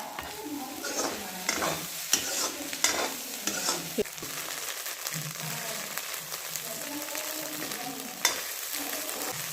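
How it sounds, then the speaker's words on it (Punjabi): An egg and peas curry fries in a pan while coriander is stirred in, a steady close sizzle with repeated scraping stir strokes and occasional clinks, alone without talk. "ਤੇ ਨਾਲ ਹੀ ਆਪਾਂ ਐਡ ਕਰ ਦਵਾਂਗੇ ਧਨੀਆ ਜੋ ਕਿ ਇਹਦੇ ਵਿੱਚ ਚੰਗੀ ਤਰ੍ਹਾਂ ਮਿਕਸ ਹੋ ਕੇ ਭੁੱਜ ਜਾਏ"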